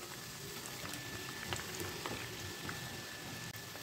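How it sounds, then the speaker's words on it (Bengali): Vermicelli snack frying in plenty of oil over a medium flame, a soft, continuous bubbling sizzle with faint crackles, fairly quiet and steady with no talking. "তো আমি এইভাবে মিডিয়াম ফ্লেমেই ভালো করে ভেজে নিচ্ছি।"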